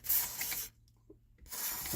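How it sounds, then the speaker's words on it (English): Two bursts of aerosol lubricant spray hiss close by onto seized brake caliper pistons of a London black cab, separated by a brief pause with faint clicks. "I'll put a bit of spray on all of them just to get a bit of movement going."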